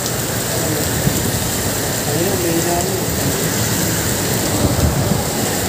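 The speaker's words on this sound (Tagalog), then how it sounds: "lakas ang ulan." Heavy typhoon rain pours steadily and loudly as a dense, constant roar during a delivery ride, with a person talking briefly over it.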